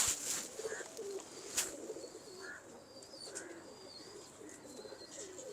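An Athra pigeon coos in low, soft murmurs, with sharper bird chirps and whistles scattered around it over a quiet background.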